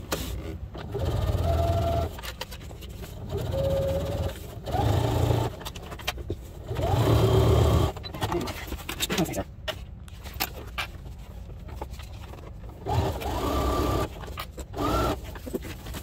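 A sewing machine stitching a duffle bag runs in several short bursts of rapid mechanical whirring, separated by pauses, at close range with light room noise between runs.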